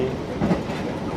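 A Tegal Bahari passenger train running on rails, heard from inside as a steady rumbling, rattling roll with faint clatter, brief and moderately loud.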